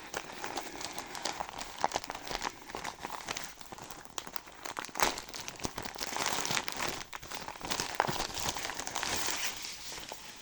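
Plastic parcel packaging crinkles and rustles continuously as a Nova Poshta delivery package is opened by hand, with irregular crackling bursts and occasional tearing close up, alone and without talk.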